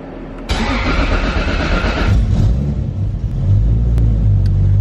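A widebody Toyota Supra's engine cranks and fires up loud and close, catching after a short starter burst and settling into a rough, rumbling idle that swells slightly toward the end.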